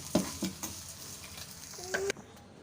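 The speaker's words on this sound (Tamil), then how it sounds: "அந்த சூட்டிலே வந்து அப்படியே வதக்கிக்கலாம்" A pan of ingredients with salt and jaggery sautés for an eggplant rice dish, with a low sizzle under a few distinct stirring scrapes and utensil knocks against the pan, close and quiet.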